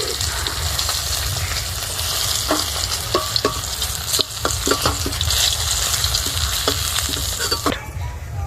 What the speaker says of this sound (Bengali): আর যে বাকি মাছগুলো আছে ওইগুলো একইভাবে ভেজে নেব।